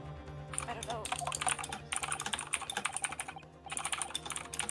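Rapid keyboard typing from The Great Ace Attorney Chronicles courtroom game, bursts of dense clicking with short pauses, steady and close, alone without talk.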